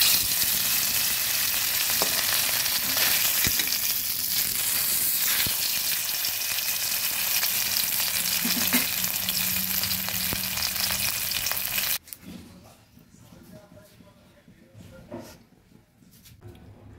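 Pieces of katla fish fry in hot oil in a wok, giving a loud, steady, dense sizzle for about twelve seconds before it drops abruptly to quieter crackling.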